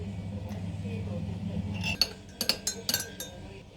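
A glass jar of raspberry jam being closed with its lid: a low hum at first, then a few sharp glassy clinks and taps close by, in quick succession.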